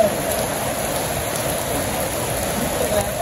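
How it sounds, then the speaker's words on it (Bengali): Steady morning rain pours down in a continuous broadband hiss, falling evenly on surfaces nearby with no pauses and no voices. "সকাল থেকে এই বৃষ্টি।"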